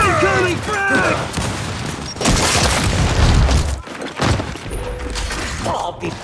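Frag grenade explosion in Gears 5 multiplayer King of the Hill, a heavy booming blast with crackling debris amid gunfire, loud and close, with shouted voices over the start.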